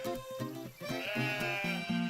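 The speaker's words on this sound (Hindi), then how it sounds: "शर्ली, बर्ली और करली नाम के 3 भेड़ भाई थे।" Cartoon sheep bleat in a quick run of wavering, nasal calls, loud and close, overlapping one another with no talk.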